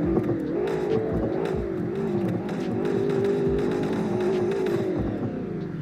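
A Ford Focus RS engine revs up and holds high for several seconds, a loud, close, throbbing exhaust drone with a rough, crackly edge and faint pops, alone without talk.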